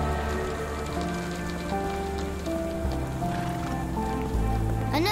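Steady rain falls in the video game Sherlock Holmes The Awakened, a continuous hiss of drops on the street beneath a low droning musical score, with a brief rising tone near the end.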